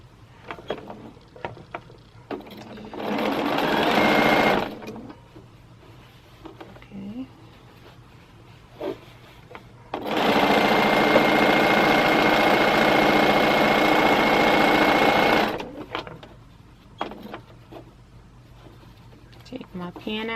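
A sewing machine stitches quilt pieces together in two steady runs of motor hum, a short one then a longer stretch of about five seconds, close by with a faint voice in between.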